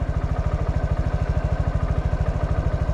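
An engine idles in a parking lot, a steady, loud, rapid low throb pulsing evenly throughout with no talk over it.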